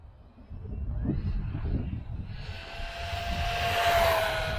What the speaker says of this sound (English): First run, the X12S. Nice and stable little buggy.